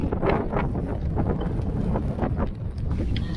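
Strong wind buffets the microphone on the Snowdon summit, a constant low rumbling roar with gusty pulses and no clear voices.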